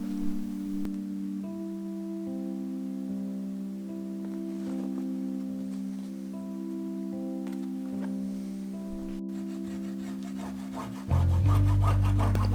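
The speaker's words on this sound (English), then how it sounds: "now I'm making grooves so I can turn in the top and the bottom of the covering." A blade or tool scores grooves into a cloth-covered book cover during linen bookbinding, a steady close rubbing, scraping sound running continuously, then a louder, rougher burst near the end.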